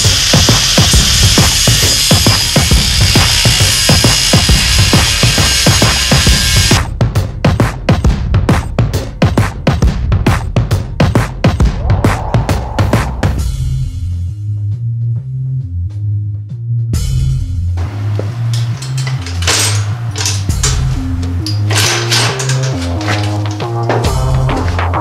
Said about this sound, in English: So I'll go ahead and get the angle grinder out, and we'll chop this thing up